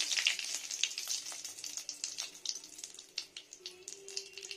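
Two bay leaves crackling in hot ghee with five-spice seeds in a pan, a bright continuous sizzle with quick pops, close and moderately quiet, no one speaking.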